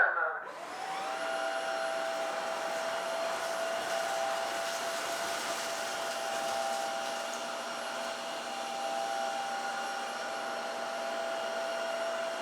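A Dreame H11 Max wet and dry vacuum cleaner runs steadily with a high, whining motor hum as it sucks up dry rice, crackers and cornflakes from a hard floor, starting up abruptly and droning on continuously without talk.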